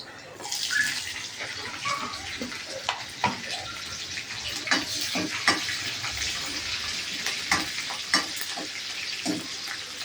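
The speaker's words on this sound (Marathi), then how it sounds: "आता आपण मिरची टाकूया त्याच्यामध्ये कापलेली." Chopped chillies dropped into hot oil for a dal tadka give a steady, bright sizzle and crackle, with brief spitting pops and light stirring scrapes throughout, close and continuous with no talk.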